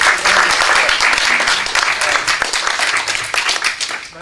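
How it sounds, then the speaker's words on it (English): An audience at a talk on God and the block universe applauds two speakers, a loud, dense and continuous wash of clapping that fades slightly toward the end, with faint voices underneath. "let's give our two speakers a round of applause"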